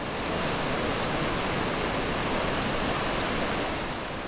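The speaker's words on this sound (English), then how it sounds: "The loud and boisterous roar of water gushing out of a dam wall is a sight to" Water gushing from the wall of the Tokwe-Mukosi dam in Zimbabwe, a steady, loud, broadband roar with no break or change, close and unaccompanied by voices.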